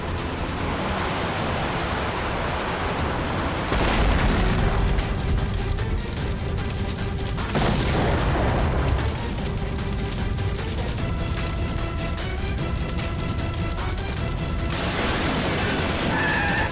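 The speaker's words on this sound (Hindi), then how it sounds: "लगता है इसकी गाड़ी में किसी ने बॉम्ब फिट कर रखा था" A car bomb blast staged as a sound effect in a TV crime drama, with several loud, broad noisy bursts and crashes standing out over a dense rumbling background across the scene.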